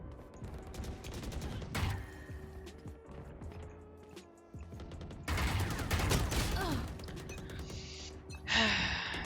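Origin Vandal rifle firing in the video game Valorant: bursts of rapid automatic spray fire with loud cracking shots in clustered runs and brief gaps between them, up close and without talk.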